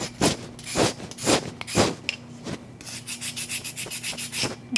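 Repeated rubbing strokes of a sanding stick, a rough scratchy swish in an irregular back-and-forth rhythm, then quicker shorter strokes, close up.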